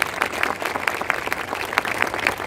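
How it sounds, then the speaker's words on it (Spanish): A congregation at a charismatic assembly claps for Jesus, a brisk, fairly close burst of applause with rhythmic accents running throughout the short stretch. "Denle fuerte ese aplauso a Jesús."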